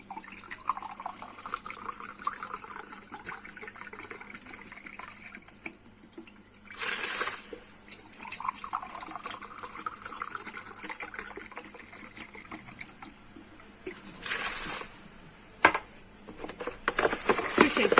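Vinegar is poured into a jar for mixed pickles, giving a gentle trickling, splashing stream in two bursts close by, with a brief spoken remark.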